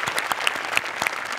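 A studio audience at the Marathi comedy show Maharashtrachi Hasya Jatra claps loudly and steadily for a performer, a dense continuous burst of applause with sharp individual claps standing out.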